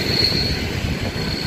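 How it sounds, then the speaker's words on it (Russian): Passenger train arriving at a station platform in Crimea, a loud close rumble of wheels on rails with a sustained high-pitched squeal from the wheels running throughout. "поезд Джанкой, Керчь, время 18:44. Прибывает он на третий путь, первый платформы."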